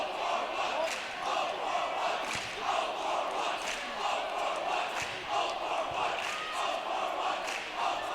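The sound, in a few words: student section crowd cheering at a basketball game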